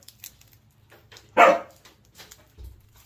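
A dog gives one short, loud bark near a garden bed, set apart from soft background rustling and faint low noise.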